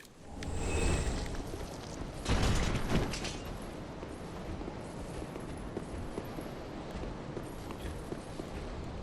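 Enemy footsteps in Dark Souls III, rendered as a steady clopping patter of heavy steps over constant ambient game noise, with two louder bursts of movement early on and no talking.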